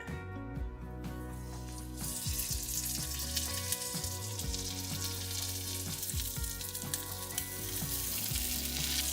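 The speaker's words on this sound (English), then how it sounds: "I'm just gonna let these fry up until they are golden brown on both sides." Chicken and mozzarella tortillas fry in a skillet with a bright, continuous close-up sizzle and crackle, steady and fairly loud throughout with a few soft shifting sounds.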